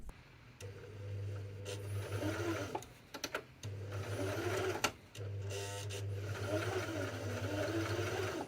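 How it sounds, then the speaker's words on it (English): A machine whirs in steady bursts with short pauses between runs, a low motor hum under a rattling mechanical clatter, like a sewing machine stitching. "So Charlotte got out the sewing machine."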